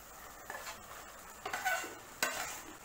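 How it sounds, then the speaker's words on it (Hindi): Noodles tossed into Schezwan sauces in a pan, with a few soft stirring scrapes and light sizzling, quiet and close. "और अब हम डाल देंगे इसमें नूडल्स"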